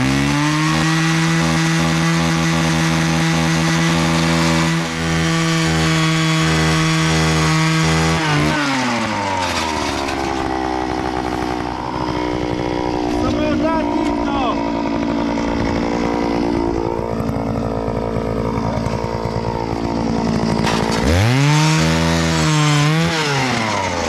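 A loud motorized auger drills holes through thick ice on a frozen creek, its engine droning steadily and then dropping in pitch as it bites in before revving up again near the end.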